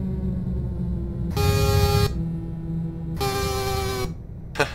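Two long, loud truck horn blasts in Euro Truck Simulator 2 multiplayer, each about a second, separated by a pause, over a steady engine rumble, with a brief third burst at the end.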